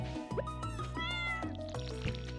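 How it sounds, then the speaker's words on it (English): Cat meows in Stardew Valley 1.6, a few short cartoonish mews over steady game music with small watering chimes, no talk. "Say hello to the cat."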